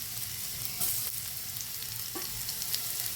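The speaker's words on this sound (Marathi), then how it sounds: "पॅन मधलं तेल गरम झाले की हे एक कारली सोडायची." Seeded bitter gourd (karela) slices frying in hot oil in a pan give a steady close sizzle, with a few brief stirring clinks and no talk.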